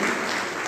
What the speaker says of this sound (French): je voudrais que nous applaudissions très fort à ces femmes courageuses